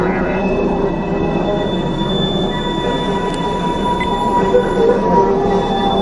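A long, slow goods train rumbles past a level crossing in North Charleston, heard from a waiting vehicle: continuous low rolling of wagons and steady wheel and rail tones, with occasional faint metallic squeals over the whole stretch.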